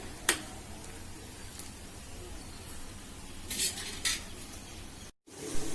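A pot of chickpea kurma curry bubbles and simmers steadily, with a few sharp utensil clinks and a brief clatter near the end.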